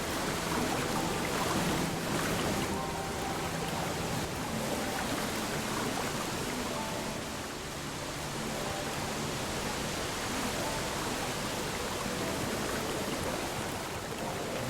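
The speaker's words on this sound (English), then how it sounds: "Sorry about the noise, I know the waterfall is pretty loud." A loud waterfall in the fantasy video game Fantasy Craft, set in a magic forest, roars as a dense, continuous rush of water that stays steady and close throughout, with no other sounds standing out.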